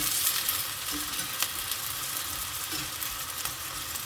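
Minced beef and pork for menudo being stirred in a hot pan, giving a steady soft sizzle with faint scraping, close and even, with no voices.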